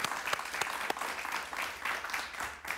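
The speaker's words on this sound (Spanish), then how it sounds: "Un aplauso para él, por favor." A studio audience gives steady applause to a guest, a former political prisoner from Cuba, heard fairly faint and continuous throughout.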